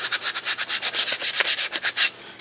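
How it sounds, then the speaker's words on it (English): Hand sanding wood with 220 grit sandpaper on craft show display shelves, a close, steady run of about fifteen quick rhythmic back-and-forth rubbing strokes with no talk. "Here I will go over this with some 220 grit sandpaper."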